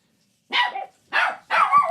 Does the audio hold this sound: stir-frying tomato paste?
no